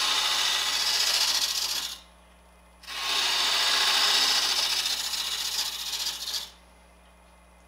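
A hand carving tool shaves wood from a branch being shaped into a bottle, giving two long, close, dry scraping strokes separated by a short pause, with no talking.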